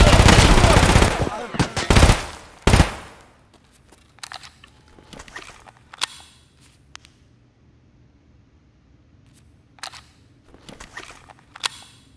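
Bursts of HK MP7A2 submachine gun fire in Escape from Tarkov, on The Lab map: a dense, loud automatic volley at the start, then a few shorter cracks and scattered gear and footstep clatter.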